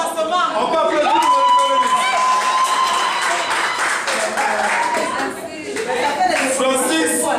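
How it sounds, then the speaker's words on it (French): A party crowd claps and cheers at a birthday celebration, a dense wash of applause with whoops and shouts, loud and sustained with voices mixed in. "on peut applaudir pour"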